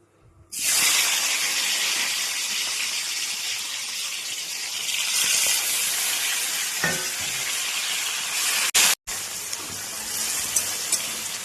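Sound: chopped tomatoes and green chillies frying in a pan

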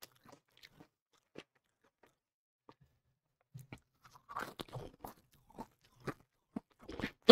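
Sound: chewing potato chips close to the microphone

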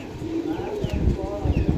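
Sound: pigeon cooing

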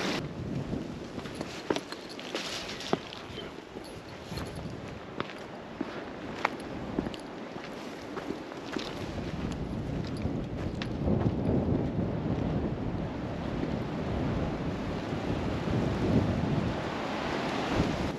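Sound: strong wind on Pendle Hill at night

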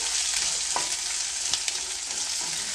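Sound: chopped ginger and garlic frying with onions

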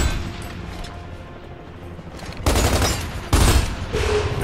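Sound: gunshot in the video game Gears of War 2

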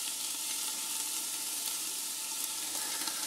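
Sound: ingredients sizzling in a pot for cherry chipotle BBQ sauce

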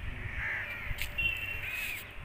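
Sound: crows cawing

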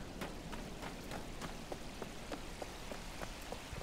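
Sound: rain in the video game Uru

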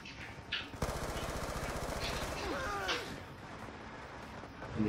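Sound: gunshots in the video game Call of Duty: Black Ops II

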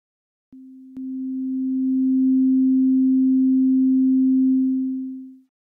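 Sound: Phosphor 2 synth clean sine waveform, no harmonics

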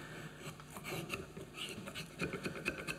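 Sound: oversized peeler-like hand tool shaving pine wood

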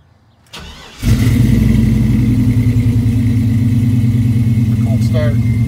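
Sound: 1986 Chevrolet C10 Silverado pickup engine cold start

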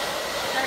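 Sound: hair dryer blow drying hair

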